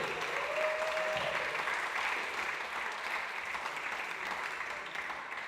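Sustained applause for a squash player after a Premier Squash League match win, a steady, full wash of clapping from an indoor audience lasting several seconds, fairly loud and even, with no voices over it.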